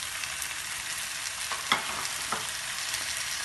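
Steady sizzle of tomatoes frying with chicken on a tawa for Pakistani chicken chanp, loud and continuous with a few soft stirring scrapes.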